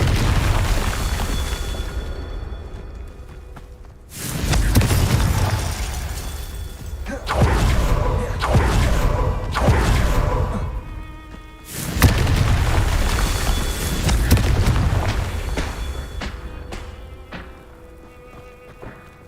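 Repeated Confringo spell explosions in Hogwarts Legacy, several heavy booming blasts a few seconds apart, each followed by rumbling debris and crackle that fades before the next hit.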